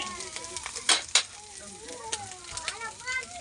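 Anchovies and chili peppers sizzle and crackle in a pan as they fry for sautéed dilis, with steady hissing, a couple of louder pops and stirring sounds while a person talks nearby.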